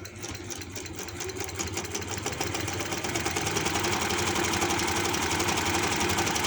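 Sewing machine stitching a plazo, a close, continuous motor hum with a fast rhythmic needle chatter that builds slightly in speed and loudness, with no talk.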